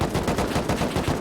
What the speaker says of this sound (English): We do still hear a lot of fire fight happening inside.